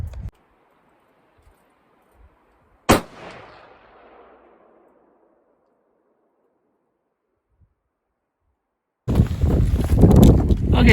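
A single sharp rifle shot from a Tikka .30-06 in an MDT chassis cracks loudly outdoors, its echo rolling away over several seconds, followed later by wind buffeting the microphone.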